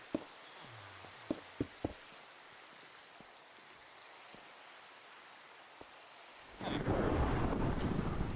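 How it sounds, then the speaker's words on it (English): Thunder during a lightning storm in Minecraft: a few sharp cracks and faint pops over quiet rain, then a loud rolling rumble bursting in near the end and sustaining, no talking. "Another lightning storm, okay."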